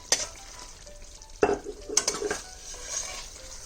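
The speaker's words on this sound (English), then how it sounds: "Now it is time to add in all of the paneer." Paneer triangles dropped into sizzling tomato gravy and stirred, a few clattering knocks of a spoon against the pan over a low sizzle, close and quiet with no talking.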